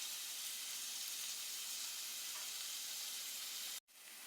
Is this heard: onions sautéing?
yes